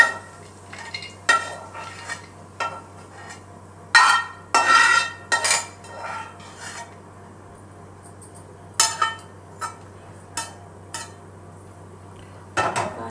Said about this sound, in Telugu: కిస్మిస్లు, బాదం పప్పు, జీడిపప్పు, పిస్తా పప్పు ఈ మొత్తం వేగిని. వీటన్నిటికీ పాన్లో నుంచి వేరే ఒక ప్లేట్లోకి తీసి పెట్టేసుకుందాం